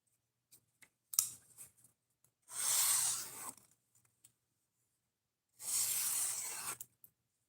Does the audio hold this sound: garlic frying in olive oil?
no